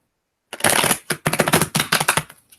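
A deck of tarot cards is shuffled close up, giving a run of crisp riffling bursts with short pauses between them, then a final softer flutter, and no voices.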